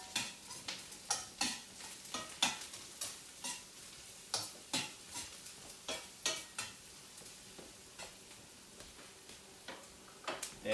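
Onions cooking in a pan, with a faint frying hiss beneath frequent sharp taps and scrapes of a utensil against the pan, irregular and close, no talking.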